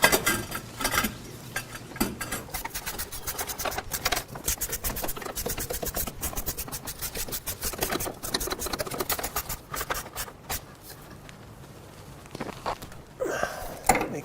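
Two bolts started and tightened on a slotted engine bracket near a power steering pump reservoir, a long run of rapid ratchet clicks and metallic tool noises with brief pauses, close and fairly loud, no talk.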